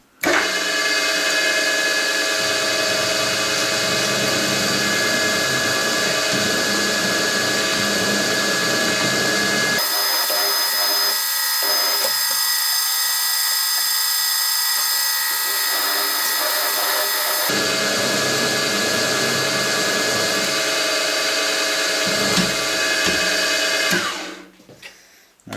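A drill whines steadily and loudly, pre-drilling holes in metal before end milling, with a sustained high-pitched grinding tone that shifts twice before winding down at the end.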